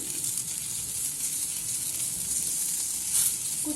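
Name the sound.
onions frying in a pan with minimal oil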